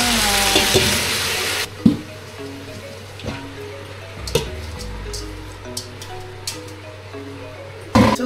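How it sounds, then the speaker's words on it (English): Bagged Japanese and Chinese vegetables sizzle loudly in a hot pan, with a dense spitting hiss and a few sharp knocks and scrapes as they are tossed and stirred. No one speaks. "I just wash it and throw it into the pan."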